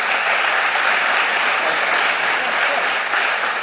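Sustained, dense applause from a large audience for Southwest Airlines executives Herb Kelleher and Colleen Barrett, steady and loud throughout with no breaks.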